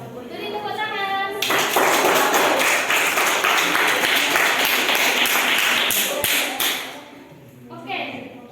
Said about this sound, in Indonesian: Jadi tepuk tangan.